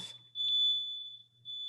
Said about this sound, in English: And that's my fire alarm.